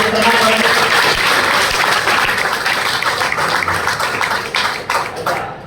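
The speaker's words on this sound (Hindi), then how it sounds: "चौथी ताली आपके अपने माता पिता के लिए बजा दो।" A large audience at a seminar speech in Uniara claps loudly and continuously, the applause thinning and tapering off toward the end.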